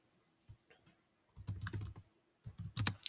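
Computer keyboard typed on in short bursts of clicking keystrokes while entering a terminal install command, close and fairly quiet, with brief pauses between groups of keys.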